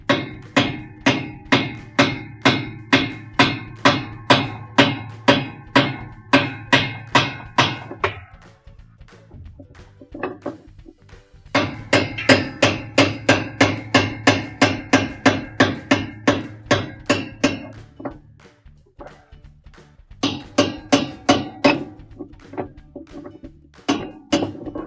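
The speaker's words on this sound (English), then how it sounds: "we're going to take the hammer and just tap it a couple of times to loosen it" Hammer tapping on a metal washing machine part to loosen it, delivering loud ringing strikes in quick rhythmic bursts, with short pauses between three runs of repeated blows.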